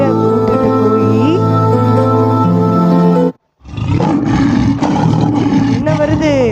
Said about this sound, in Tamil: என்ன வருது? அது சிங்கம்.